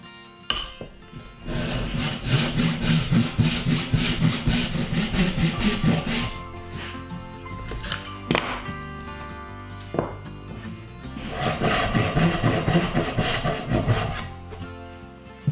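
Hand saw cutting a black walnut workpiece along a clamped guide, steady rasping strokes in two long runs separated by a pause with a few knocks, loud and close with no talking.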